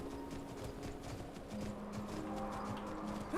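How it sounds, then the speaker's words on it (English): Horse hooves in the video game Skyrim, a soft continuous clip-clop of trotting, fairly quiet under faint background ambience, no talking. "That's a magnificent horse you have there."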